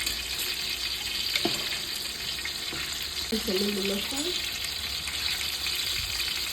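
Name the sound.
onions frying in a pan until golden brown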